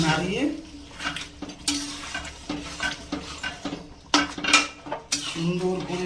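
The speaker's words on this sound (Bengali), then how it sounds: "ভালো করে নাড়িয়ে সুন্দর করে" A pot of Bengali muri ghonto made with a large katla fish head being stirred, a spoon scraping and clinking against the metal in irregular strokes, close and fairly loud, with a faint voice speaking in the background.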